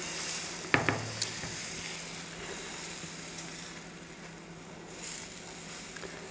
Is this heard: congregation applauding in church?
no